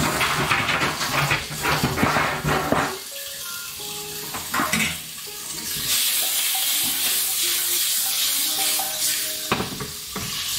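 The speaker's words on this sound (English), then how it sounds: "we're dropping the linguinis. Get those stirred in a second." Linguine pasta dropped into a pot of boiling water for clam carbonara and stirred, with steady hiss and bubbling, scraping stir sounds and clinks close by, no talk.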